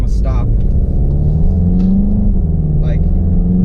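2015 Volkswagen GTI pulling hard from a stop, with a loud, steady engine drone and a rising tone from inside the cabin while a person talks over it.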